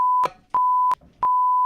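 Censor bleep tones on a comedy talk show: three loud steady single-pitch beeps, each about a third of a second, spaced evenly with short gaps, no voices.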